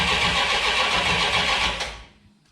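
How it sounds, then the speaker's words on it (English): A small block Mopar V8 cranks over with the ignition on, a loud, dense churning whir that runs steadily for about two seconds before cutting off abruptly and fading to near silence. "Crank it a little with the ignition on."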